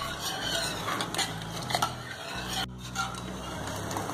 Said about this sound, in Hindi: और इसे मिक्स कर लेंगे